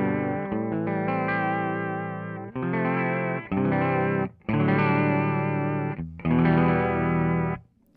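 Electric guitar run through a TC Electronic Shaker vibrato pedal on a vintage-style setting, playing sustained chords in several phrases separated by short gaps, with a warm, pulsing pitch wobble and slight grit, close and alone.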